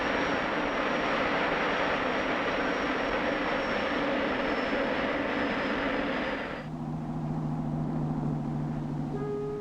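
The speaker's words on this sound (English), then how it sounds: "For all its power, it's the simplest aircraft engine ever devised." Jet airliner engine from a 1959 Pan American jet: a loud, steady roar with a high whine that cuts abruptly near the end to a lower, quieter hum.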